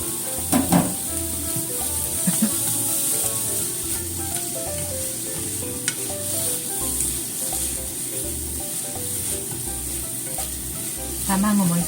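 Carrots and egg stir-fry in a hot pan with a steady sizzle and occasional scraping of the spatula, close and continuous, and no talking.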